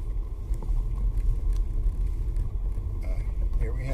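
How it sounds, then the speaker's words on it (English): A Tesla running Full Self-Driving steers itself across loose beach sand at Starbase, Texas, giving a steady low rumble of tyres and cabin noise throughout, with someone talking over it. "The car is doing everything from a beach, which is not a road."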